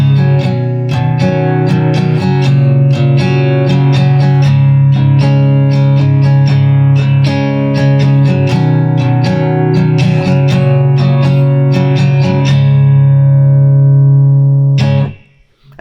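An acoustic guitar strums the chorus of a song in a down-down-up pattern, with loud, dense, steady chord strokes carrying on for about fifteen seconds before stopping.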